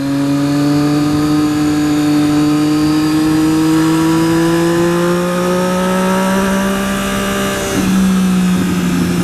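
A 2013 Triumph Daytona 675R motorcycle cruises along a highway, its engine note steady and loud and climbing slowly in pitch, with a brief shift near the end and no talking.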